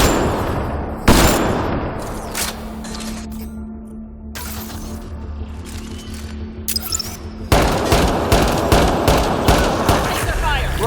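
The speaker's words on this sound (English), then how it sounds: "Laser fire" Laser weapons fire in the Mass Effect Andromeda video game, with sharp rapid volleys of shots and crackling impacts, then a quieter stretch with a low hum before another loud burst of firing.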